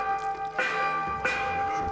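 A church bell tolls in Assassin's Creed Shadows with two loud metallic strikes about half a second apart, each ringing on with long resonant overtones over a quiet game background.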